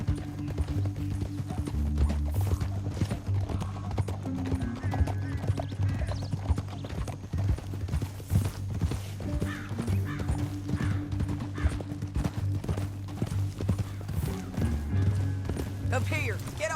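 Rhythmic horse hooves clip-clopping over a steady low hum in the video game Red Dead Redemption 2, with an occasional whinny and mechanical clatter mixed in.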